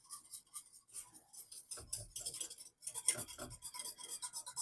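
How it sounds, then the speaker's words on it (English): A whisk beats a pre-cooked mix into water in a bowl, a quiet rapid rasping and ticking of wire against the sides, coming in bursts with short pauses between. "I'm using a whisk."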